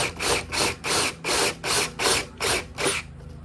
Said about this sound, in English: we're just going to very gently just enlarge that hole a bit